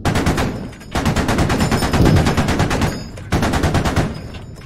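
Automatic gunfire in the military shooter Squad comes in long, rapid, evenly spaced bursts of sharp cracks, loud and close, with two short pauses between strings of shots and no talking over it.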